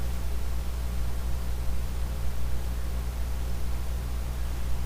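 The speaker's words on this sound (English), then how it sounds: "I apologize for the fan you hear in the background." An electric fan runs in a warm room, giving a steady, even broadband whoosh with a low hum beneath, constant and unvarying throughout, with no one speaking.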